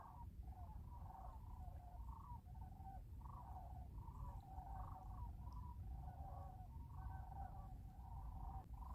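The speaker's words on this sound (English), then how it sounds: "there's a huge V formation of trumpeter swans flying over real high" Distant honking calls of swans overhead, a steady stream of overlapping trumpet-like notes under a low, continuous rumble.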